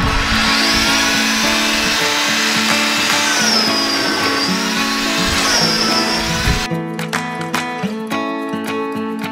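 Power sander working over the walls of a campervan conversion, a loud continuous whirring grind with shifting pitch that cuts off near the end, leaving sharp knocks and clatter from the work.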